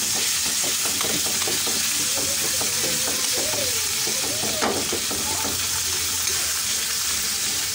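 Softened tomatoes mashed and stirred in a frying pan, a dense constant sizzle and hiss with soft scraping under it, while a voice speaks faintly in the background.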